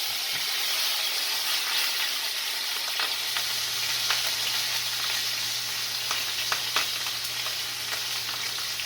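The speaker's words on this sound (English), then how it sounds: "Listen to that sizzle." Food sizzling steadily in a hot frying pan on an early morning stovetop, a continuous bright crackle with occasional sharp pops, close and fairly loud, with no talking.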